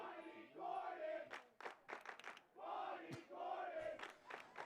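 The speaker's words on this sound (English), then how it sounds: "The student section is serenading President Corden." Student section at a college women's soccer game chanting and singing together in loud, rhythmic swells, a crowd of voices rising and falling in unison across the stands.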